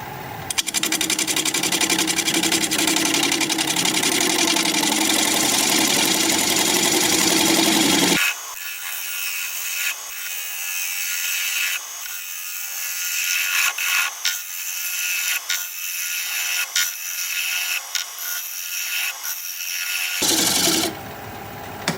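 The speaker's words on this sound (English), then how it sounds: "We're going to be turning at 670 RPM, stubby little 5/8 inch bowl gouge" Wood lathe turning a bowl at 670 RPM with a stubby 5/8 inch bowl gouge: a loud continuous cutting roar for several seconds, then a softer scraping, rasping cut with rhythmic pulses, and a brief return of the louder cut at the end.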